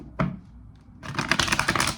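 A deck of tarot cards being shuffled: a single sharp tap, then a second of quiet, then a quick run of crisp, rapid riffling clicks close by.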